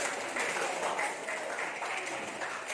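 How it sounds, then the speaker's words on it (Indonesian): A classroom of students applauds the first group, a moderate burst of clapping that rises and falls in rough waves for a few seconds, with voices mixed in. "Give applause for the first group."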